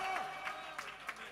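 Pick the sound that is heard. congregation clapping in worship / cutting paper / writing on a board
congregation clapping in worship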